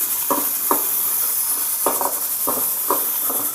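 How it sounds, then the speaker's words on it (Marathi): Grated coconut roasting in a pan with a small piece of ginger, stirred with repeated scraping strokes every half second or so over a steady close sizzle and hiss, no voices. "इथं आपलं खोबरं भाजून होतंय हळूहळू"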